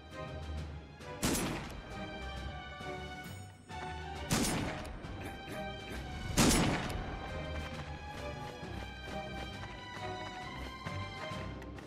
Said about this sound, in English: They hurry to follow the sounds of cannons and gunfire to find a city at war.